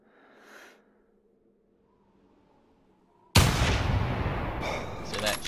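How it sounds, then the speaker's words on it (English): Single rifle shot at a moose in TheHunter hunting game: a sudden loud report after near silence, followed by a sustained rumbling echo, with a faint voice early on. "I'm going to try to get a heart shot here."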